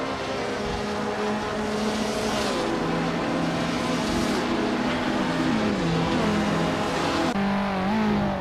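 A 1968 Porsche 912R race car drives steadily among other racing cars, its engine droning continuously and loudly with shifting pitch as revs rise and fall, a fresh gear change near the end.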